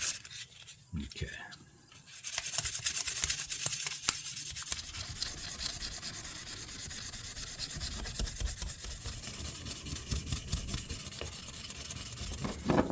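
Steady hand rubbing on a restored fishing slip to buff it to a solid shine, a close, continuous scratchy swishing that starts after a short pause and runs throughout.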